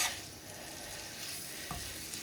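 Onions and spices roast in a pan over slow heat, giving a continuous soft sizzle and crackle with one brief stirring knock near the end.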